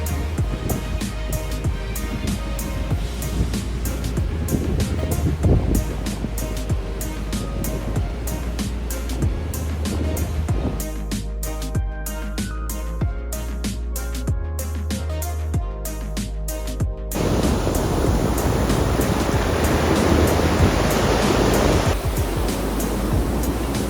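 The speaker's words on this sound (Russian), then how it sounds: "На море гигантский шторм" A stormy sea at a Phuket beach roars in a continuous loud wash of crashing surf and wind noise, dense and unbroken throughout, with no talking.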